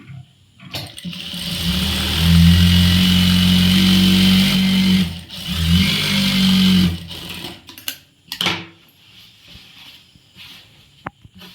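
A sewing machine stitching a seam on an umbrella churidhar, a steady mechanical whirring hum that runs in two long bursts with a short pause between them, followed by scattered clicks and handling noises.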